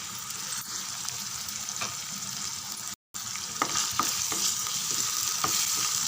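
Onions, green chillies and curry leaves sauté in a pan for an eggplant gravy, giving a steady close sizzle with scraping stirs throughout and a brief silent break midway.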